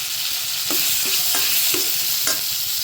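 Tomato sautés in a pan for fish curry, a loud, steady sizzle broken by regular stirring strokes about every half second, close up and with no talking.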